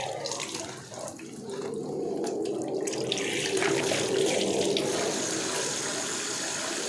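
A kitchen tap runs steadily, water splashing onto a sink while tiles are cleaned, close and continuous with slight variations in the flow.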